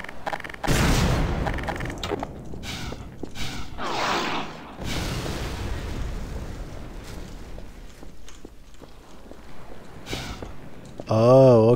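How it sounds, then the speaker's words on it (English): Booming shots from a distant gun emplacement on a hilltop fire on a town below in Half-Life 2: Lost Coast, with dull explosions and rumble among game ambience and a few sharper cracks. "that gun that guy was talking about is on top of this hill, I'm assuming, and it's firing at the town below"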